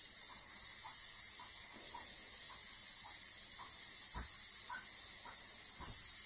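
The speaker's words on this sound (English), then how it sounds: "And we're going to do 3, maybe 4 passes with the aerosol, whereas with the gun we would only need 1 pass." Aerosol spray paint hisses onto hydrographic film in one continuous, fairly quiet blast, with faint rhythmic ticks and knocks beneath the steady spray.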